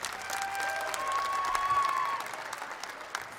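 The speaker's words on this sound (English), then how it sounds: "Let's give them a round of applause." Audience applause at a rehab telethon: a steady, moderately loud wash of clapping that lasts throughout, with no talking.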